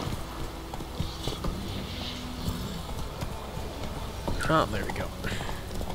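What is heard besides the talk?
hooves of the horse Roach in the video game The Witcher 3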